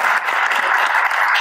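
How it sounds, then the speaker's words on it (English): A burst of applause from a crowd, dense steady clapping throughout. "I think I need a round of applause"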